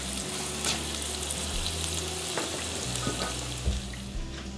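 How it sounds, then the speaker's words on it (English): Onions and ginger sizzle steadily in olive oil and butter in a pan, a continuous crackling fry with occasional stirring clicks and pops, close and even in level. "my onions and my ginger are sauteing in some olive oil and butter"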